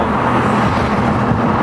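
Turbocharged Nissan Skyline R33 GTR engine roaring steadily and loud, a dense continuous drone with no pauses, heard up close during a hard pull.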